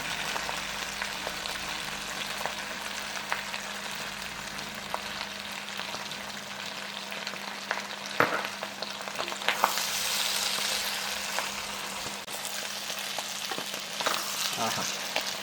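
Kerala Nagaland style pork fry sizzles quietly and steadily in a pan, with occasional scraping and stirring sounds as the meat is turned.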